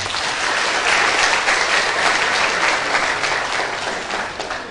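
A large seated audience at a Dhamma talk bursts into sustained applause, a dense, steady wash of many hands clapping that holds loud and even for several seconds before easing slightly at the end.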